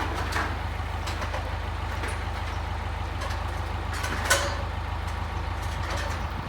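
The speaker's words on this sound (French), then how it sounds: "la BMW elle va faire un bruit différent" A BMW E36 with a modified intake runs steadily, a low engine drone holding constant throughout with a brief louder burst midway, close and without talk.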